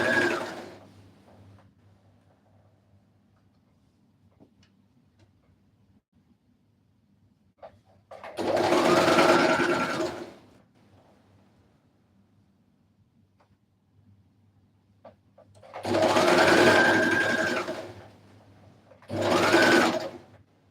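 A sewing machine stitches a blouse in three separate bursts: one longer run, a pause, then two more, each a close, steady mechanical whirr between quiet stretches.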